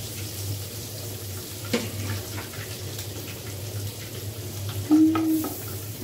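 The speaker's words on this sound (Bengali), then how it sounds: "বাটার দিয়ে দিয়েছি, দিয়ে দিচ্ছি রসুন কুচি জাস্ট ফ্লেভারের জন্য।" Chopped garlic frying in butter in a pan for fried rice, a steady close sizzle with occasional clinks and a brief tonal squeak from stirring, with no talking.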